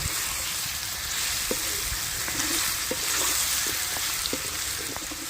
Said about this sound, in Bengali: চিকেন দিয়ে খুব ভালো করে আবারও কিছুক্ষণ কষিয়ে নেব এইভাবে আরও কিছুক্ষণ কষিয়ে নেব